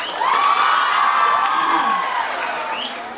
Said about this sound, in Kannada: ನನಗೂ ಒಂದು ಚಪ್ಪಾಳೆ ತಟ್ಟಿ